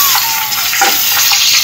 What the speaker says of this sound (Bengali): এবারে এভাবে কেটে রাখা পটল আমি ভাজা করে নেব